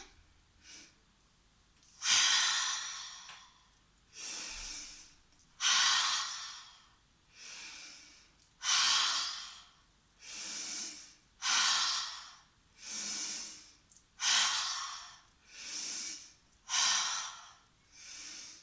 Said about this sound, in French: on va inspirer par le nez et expirer par la bouche